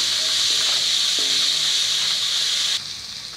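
Onion, green chilli and curry leaves sizzle in hot oil for brinjal fry, a steady bright hiss that drops suddenly in level near the end, with a few faint clinks underneath.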